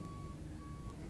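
Push cars at a clay speedway track sound out as a faint, distant tonal beeping in two spaced pulses over a low engine rumble.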